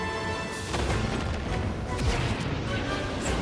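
Giant explosions in a Star Fox space-combat video game, heavy booms and crashes rumbling loudly over a dense layer of game noise with music tones.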